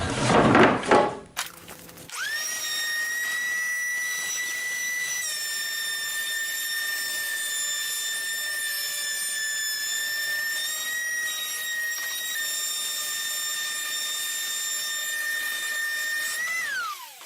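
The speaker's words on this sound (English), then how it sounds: "so that you can see how the planing process works its way down as it planes the twist that's in this face of the board off of it" A power planer runs steadily for about fifteen seconds, flattening the twisted face of a wooden board for a garden obelisk trellis leg: a loud, sustained whine with small pitch shifts as the cut loads, ending in a brief spin-down.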